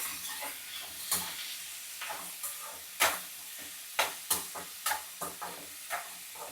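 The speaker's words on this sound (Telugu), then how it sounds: "పచ్చిమిర్చి కొంచెం వేపుకోవాలన్నమాట. వేపుకున్నాము, కొంచెం వేగాలంతే లైట్గా." Green chillies frying lightly in a pan with oil, a steady soft sizzle and hiss broken by sharp clanks and scrapes of a spoon stirring against the pan, up close with no talking.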